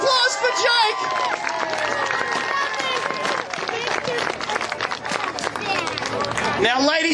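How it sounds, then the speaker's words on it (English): A crowd at a medieval fayre claps and cheers for a performer named Jake, a dense, sustained burst of applause with voices and hubbub mixed through it from start to finish. "Ladies and gentlemen, a round of applause for Jake!"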